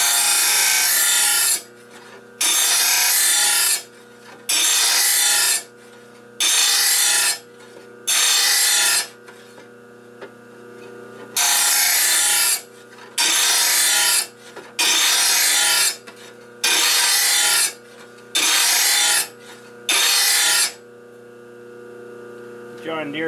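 Sharpening the bevel of a John Deere mower deck blade, about a dozen rasping grinding strokes in regular bursts of a second or two each, separated by short pauses filled with a steady electrical hum.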